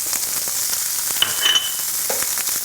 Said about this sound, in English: You're gonna hear that sizzle.